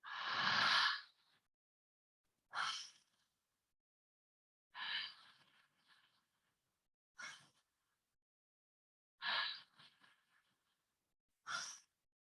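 Open-mouth breathwork breathing: about six loud, sighing breaths spaced evenly a couple of seconds apart, each a rushing exhale with silence between, and no talking.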